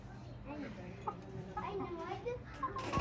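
Hens clucking softly in the background beneath continuous talking, with a few brief louder calls standing out now and then.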